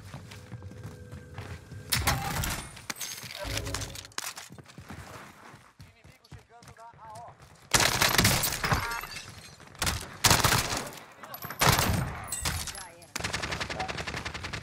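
Gunfire in the video game Call of Duty Warzone, with an MP5 submachine gun: bursts of rapid shots in several clusters, some loud and close, with quieter gaps between and game effects around them.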